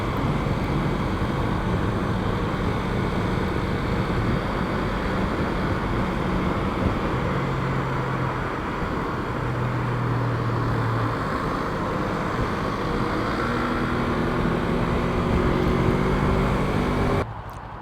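2024 Yamaha R25 motorcycle out on a short ride, its engine hum buried under heavy, steady wind rush that persists almost without change for the whole stretch, with no speech.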